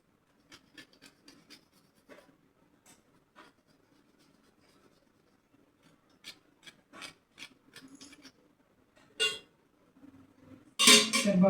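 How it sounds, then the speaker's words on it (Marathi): Chocolate being grated over a chocolate milkshake as a garnish, giving a run of soft, dry rasping scrapes in short bursts, faint at first and then louder and denser toward the end. "तर बघा हे चॉकलेट जे आहे ते मी किसून घालत आहे"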